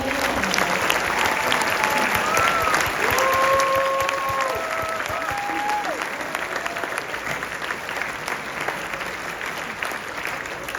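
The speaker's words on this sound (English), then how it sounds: "please join me again with one last round of applause to the King's College PA" A room full of people gives a final round of applause for the King's College physician assistant class at their pinning ceremony, with steady, sustained clapping and a few faint voices beneath it.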